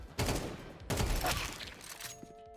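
Two sharp bursts of rapid gunfire at Counter-Strike 2 practice targets, each a loud, close volley that trails into quieter reverberant crackle and fades.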